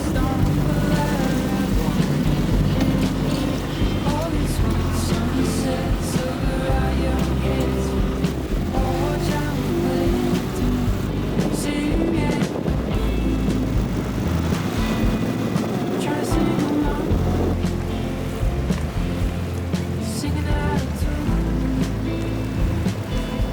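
A small kaito motorboat putters steadily among moored boats at Ap Lei Chau, its engine drone loud and continuous with water churning and slapping alongside for the whole ride.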